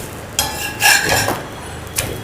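A chapati flipped over on a hot griddle: a few short metallic clanks and scrapes of a utensil against the pan, close and distinct.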